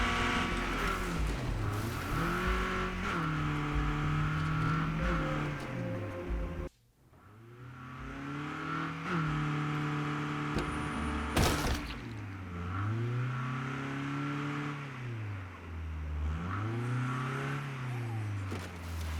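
Engine of the player's fanciest car in State of Decay 2 as it is driven along, a steady droning hum that rises and falls in pitch with gear changes and speed, nearly continuous with one brief dropout.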